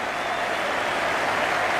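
A crowd of over 87,000 at the Melbourne Cricket Ground applauds during the 1992 Cricket World Cup final between Pakistan and England, a dense, continuous roar of clapping that fills the whole moment.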